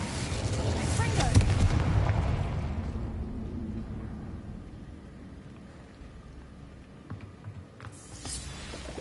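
A Confringo spell explosion in the video game Hogwarts Legacy, a loud rumbling blast in the first two seconds that decays into a long, fading roar, with a brief sharper burst near the end.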